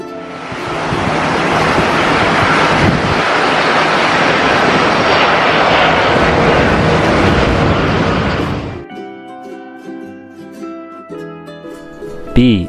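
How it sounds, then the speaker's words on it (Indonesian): A loud, broad roar of an airplane engine rushes past for about nine seconds, then gives way to soft music. "A is for airplane,"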